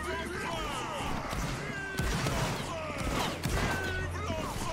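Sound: musket volley fired by formed line in Napoleonic Wars video game

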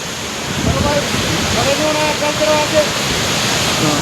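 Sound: Saraswati river rushing down from the hills near Mana village

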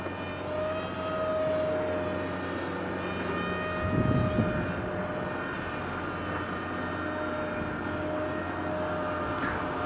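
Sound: Sky Surfer V2 RC plane launched and flying

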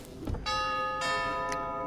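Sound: doorbell ringing in Five Nights at Freddy's: Help Wanted video game

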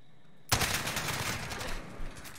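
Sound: AK-47 gunshot headshot in a video game

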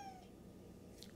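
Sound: person imitating a cat meowing

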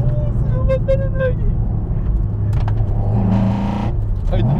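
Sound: SARD 86 GT1 car engine with four individual throttles

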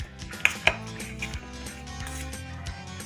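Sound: mixing spices into potato chaat in a bowl

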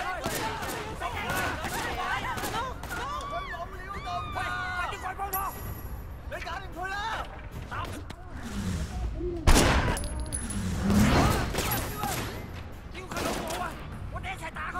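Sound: gunfire in the video game Sleeping Dogs

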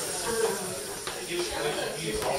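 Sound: clams steaming, hiss of steam

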